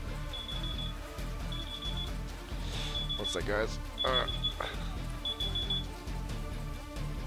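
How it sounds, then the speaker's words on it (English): A real alarm beeps in rapid high bursts that repeat in regular spaced pulses, moderately loud, over Call of Duty: Black Ops 4 Blackout gameplay noise while a person talks briefly. "Don't know why my alarm keeps going off."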